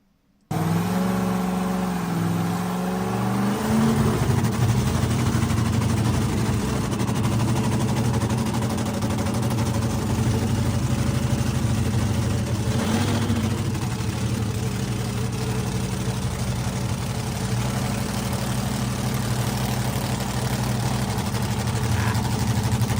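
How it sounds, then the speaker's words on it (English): A fuel altered drag car engine idling loud and close at a car show, a rough, steady, lopey rumble that holds for over twenty seconds with sharp popping pulses. "we'll go back and do one more run of the fuel alter"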